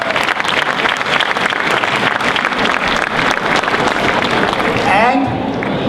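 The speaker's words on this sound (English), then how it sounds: "join me in giving them a hearty applause for the work well done." An audience at a formal Mauritius National Day flag-raising ceremony at Toronto City Hall breaks into loud, sustained applause, dense clapping continuing steadily before easing near the end, with some voices mixed in.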